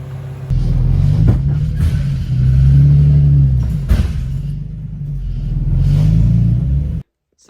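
A drift car engine revs and drones while driving, a loud, steady low rumble with surging rises and falls across several pulls before it cuts off abruptly near the end.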